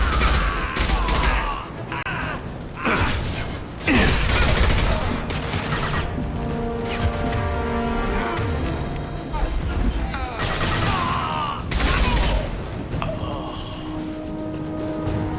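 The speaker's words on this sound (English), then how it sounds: "Blue Suns and Orchard shooting anything that moves. Look at hostiles! Taking heavy fire!" Sustained gunfire fills a Mass Effect 2 firefight against Blue Suns and Eclipse mercenaries, with rapid automatic bursts, heavy booms and crashes recurring loudly throughout, under brief shouted voices.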